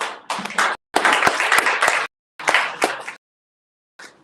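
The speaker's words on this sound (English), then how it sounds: "Applause." Audience at a networking meetup claps in short bursts broken by silent gaps, the applause cutting in and out several times at moderate volume.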